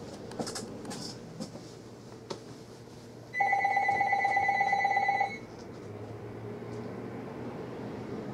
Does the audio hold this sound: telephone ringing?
yes